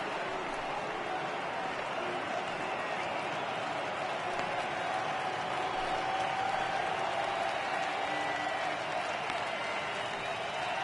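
A large stadium crowd in a PS4 baseball video game applauds and cheers in a steady, dense roar that swells slightly midway and holds throughout.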